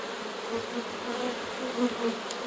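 Bees humming steadily around an open beehive, a close, continuous buzz with small rising and falling swells as individual insects pass near.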